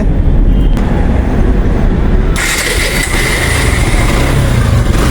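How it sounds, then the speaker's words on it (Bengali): A 2023 Suzuki Gixxer Monotone motorcycle starts and settles into a close, loud running engine sound, with a rumble and brief noise before the engine catches after about two seconds. "বাইকটা যদি আমরা স্টার্ট দিয়ে দেখি গাড়ির সাউন্ডটা কেমন আছে"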